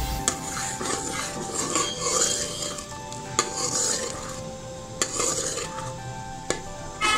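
Fish curry masala with yogurt being stirred and fried in a pan, a steady sizzle running throughout with repeated scraping and clinks of a utensil against the pot, close and continuous.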